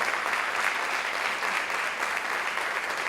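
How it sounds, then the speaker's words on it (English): Audience applause at a senior academic awards event, a steady, dense patter of many hands clapping continuously at moderate distance, with no talk over it. "give him a special round of applause for taking the time to be here today"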